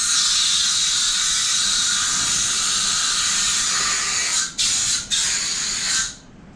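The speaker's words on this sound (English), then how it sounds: "Come in here with the compressor." An air compressor nozzle blowing a wet spot dry in a shaved EG hatchback engine bay, a loud, steady close hiss broken by two quick gaps before it cuts off near the end, with no talking.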